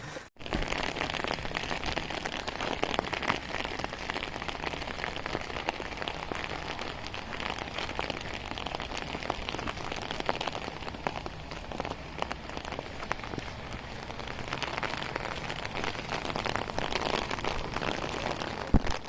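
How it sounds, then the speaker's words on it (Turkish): A cold rain falls steadily on a beach at Konyaaltı, Antalya, with a dense, even patter of drops on nearby surfaces and no talking. "Soğuk yağmur."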